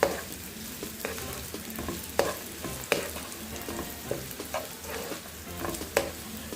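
Thin, long-cut slices of ginger sizzle and crackle in hot oil for a gooseberry pickle, with occasional sharper pops and light stirring clinks over a steady frying hiss.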